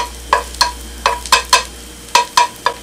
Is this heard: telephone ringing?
no